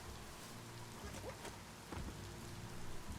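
Rain pours steadily in the video game Biomutant and thunder rumbles low beneath it, a soft, dense hiss that runs through without speech.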